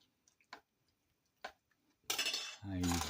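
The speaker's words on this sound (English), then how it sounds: "You rather use the chopsticks, much easier to mix." Chopsticks mixing a Korean spinach side dish in a bowl, with a few light taps and clicks, then a short burst of wet stirring; a voice speaks briefly at the end.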